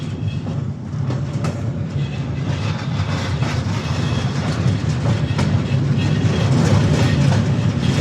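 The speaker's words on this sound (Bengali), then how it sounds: "এখন ট্রেনের গতি বাড়তেছে, এখন ট্রেনের অনেক গতি বাড়তেছে।" A passenger train crossing the Karnaphuli bridge rumbles loudly with rhythmic clickety-clack from the wheels, the roar building steadily as it gains speed, heard from on board with no talk.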